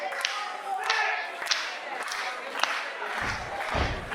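Crowd noise at an RWA Legacy VI professional wrestling show, a sustained roar of cheering and shouting with scattered claps and thuds, loud and continuous across the whole stretch.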